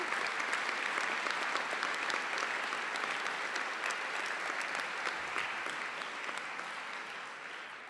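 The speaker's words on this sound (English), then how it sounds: "If I could give them a special round of applause." Steady, full applause from a large audience fills the whole stretch, holding strong before easing slightly toward the end.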